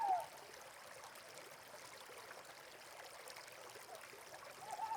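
A forest stream flows gently at a low, constant level, a soft wash of trickling water with faint brighter tones at the start and end, and no voices.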